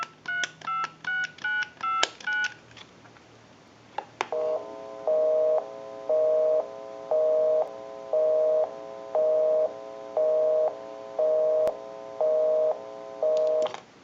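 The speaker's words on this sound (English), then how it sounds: "And we'll call my number, and it will be busy." Touch-tone dialing beeps on a repaired clear Trimline telephone, followed by a busy signal that pulses in a steady on-off rhythm of a dozen or so tones, heard alone with no talking.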